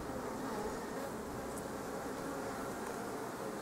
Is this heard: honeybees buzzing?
yes